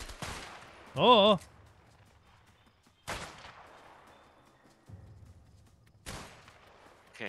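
Gunfire in the video game A Way Out: three sharp, loud shots spaced about three seconds apart, each trailing off with a reverberant tail, plus a brief exclaimed voice early on.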